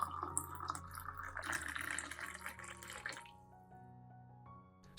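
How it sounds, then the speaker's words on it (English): About 500 milliliters of boiling water pours into a container of coffee grounds, making a soft, steady splashing trickle that stops after about three seconds. It is faint and heard close by. "Then I will add about 500 milliliters of boiling water."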